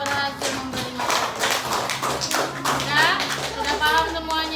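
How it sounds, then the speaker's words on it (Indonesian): Children clapping hands in a coding and computational thinking class, scattered claps mixed with busy classroom chatter and kids' voices throughout. "Tepuk tangan untuk Nina yang berhasil memberi makan."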